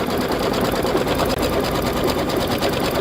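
An embroidery sewing machine stitches an outline with a steady, loud, fast mechanical whirr and rapid needle chatter that runs without a break.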